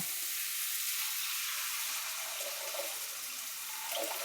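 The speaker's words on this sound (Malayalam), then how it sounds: "അതിലേക്ക് നമുക്ക് കുറച്ച് വെള്ളം കയറ്റി കൊടുക്കാം" Water poured into a hot pan of sizzling masala, a steady broadband hiss and bubble that swells slightly near the end, close and alone without talk.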